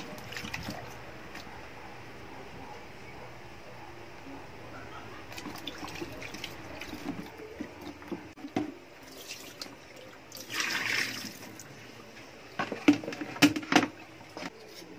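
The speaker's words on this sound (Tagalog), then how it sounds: "huhugasan na natin yung gulay na ating gagamitin" Vegetables are rinsed under a running kitchen tap while a fish dish is prepared, giving a faint, steady trickle of water broken by louder splashes and handling clatter toward the end.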